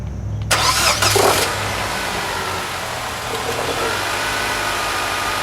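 A 2007 Nissan Sentra 2.0 engine, freshly tuned up with new spark plugs, cranks and catches with a short roar, then settles into a steady, even idle.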